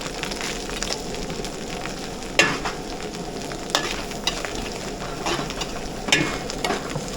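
Garlic and onion sizzle steadily in hot oil in a pan, a constant close frying hiss broken by a few louder clatters of stirring or ingredients dropping in.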